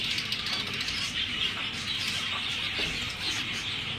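Busy high chirping and peeping from caged finch chicks, continuous and fairly close, over a low rumbling background; no talking.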